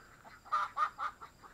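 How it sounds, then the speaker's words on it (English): Chickens cluck several times in quick succession, faint and somewhat distant on a farm, with quiet background noise. "there is a whole lot of squawking and clucking"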